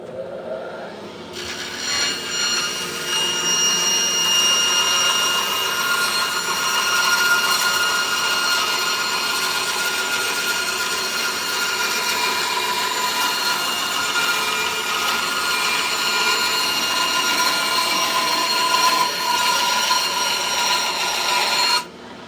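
An 8-ply skateboard deck being sanded, a steady, continuous abrasive rasp running loud and close for the whole stretch with no pauses and no voices.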